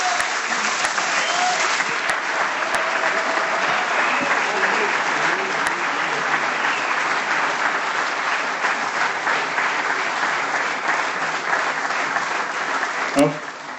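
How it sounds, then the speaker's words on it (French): A large premiere audience at a film screening bursts into thunderous, sustained applause, a steady dense roar of clapping holding evenly for over ten seconds with a few sharp isolated claps near the end. "Je vous propose d'applaudir un tonnerre d'applaudissements pour Benjamin."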